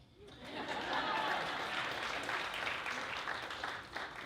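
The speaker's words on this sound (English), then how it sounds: "let's give a round of applause for everyone who made this night possible" Wedding guests applaud at a reception after a toast, a brief, soft round of clapping that swells and tapers, with a little laughter and chatter underneath.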